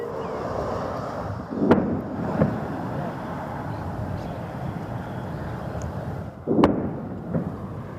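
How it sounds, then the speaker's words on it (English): Two deep, distant booms about five seconds apart as missile interceptors hit incoming missiles over Israel, rising out of a steady rumble of wind noise outdoors. "The booms are the sounds of the interceptors making contact with a volley of missiles fired from Iran."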